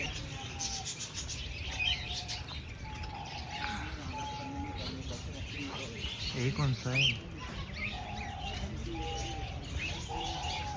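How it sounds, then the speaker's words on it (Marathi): A yellow bird repeats short chirps and whistled calls among other birdsong and cooing in a city setting. Faint background hum, with people talking nearby at times. "असा हा पक्षी आहे. मस्त वाटायला लागलाय. अतिशय सुंदर असं पिवळा पिवळा."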